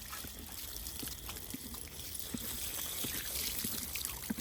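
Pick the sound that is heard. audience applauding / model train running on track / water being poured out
water being poured out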